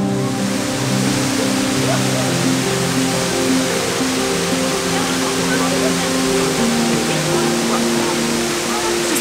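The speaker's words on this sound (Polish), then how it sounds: "Przystanek pod wodospadem Erskine." Erskine Falls on the Great Ocean Road in Australia pours steadily, a dense, unbroken rush of falling water filling the whole stretch at an even, loud level with no pauses.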